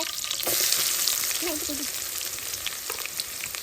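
Fenugreek seeds and onions dropped into hot oil, a loud burst of sizzling crackle that settles into a steady frying hiss with a few stirring clicks.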